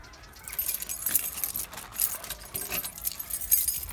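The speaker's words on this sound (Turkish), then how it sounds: "Anahtarı da, bir dünya anahtar var. Anahtarı bulmak da sıkıntı." A large bunch of keys jangles and clinks in bursts of metallic rattling, close and moderately loud, with no talk over it.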